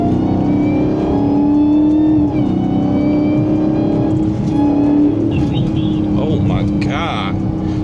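A Dodge Charger Hellcat being driven in Germany roars loudly and continuously, its engine note held steady with a high supercharger whine layered on top, close and dominant throughout.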